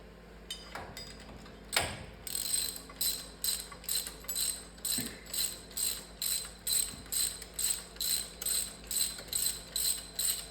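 A hand ratchet turns bolts on the power steering pump of a 1959 Impala, a close, loud, even series of rapid clicking strokes after a couple of metallic knocks.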